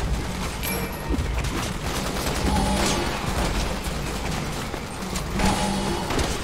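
Rapid, dense gunfire in the Resident Evil 6 video game, a continuous loud fusillade of overlapping shots with booming bursts throughout.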